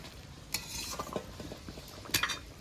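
Fish heads with a pinch of turmeric powder being stirred in a frying pan, a faint low sizzle with soft spatula scrapes and two brighter clinks of metal against the pan.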